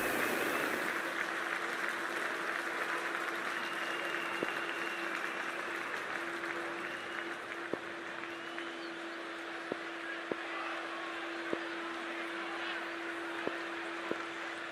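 Steady crowd noise and scattered applause from a stadium at a women's T20 World Cup cricket match, India versus Australia, in the video game Cricket 24, a continuous broad roar with a faint tone and occasional clicks.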